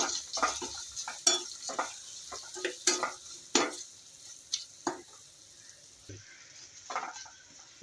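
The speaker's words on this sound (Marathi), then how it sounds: "त्याच्यामध्ये आमचूर पावडर 2 चमचे टाकायचे आहे आणि हे मिक्स करून घ्यायचे." Amchur (dry mango) powder being stirred into a puffed-rice (kurmura) chivda snack mix, heard as a run of scraping, rustling stirs in an irregular rhythm, close and moderately loud with a faint crackle and no talking.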